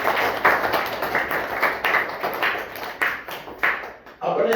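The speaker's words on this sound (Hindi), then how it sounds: "Very good, Tali बजाइए।" Schoolchildren in a primary school classroom clap in short rhythmic bursts, several rounds in quick succession, with a voice speaking over them.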